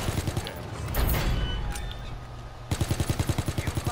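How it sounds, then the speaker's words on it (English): Rapid automatic weapon fire in Call of Duty WW2, a fast, steady rattle of loud shots that pauses briefly before resuming with heavy, evenly spaced bursts. "This gun was so good right here."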